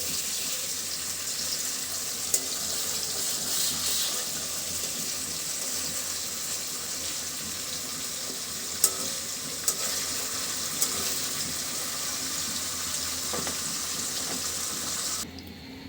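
Fish fries gently in oil in a pan, a steady, even hiss of sizzling that runs unbroken for a long stretch, with a few faint ticks of spatter and no voices.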